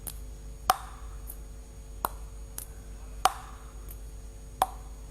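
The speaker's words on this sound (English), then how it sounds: "The softer brushing sound means that there's more spin on the ball." Light, soft taps of a table tennis bat brushing the ball for spin, four gentle hits at a steady rhythm with faint clicks in between, close and quiet.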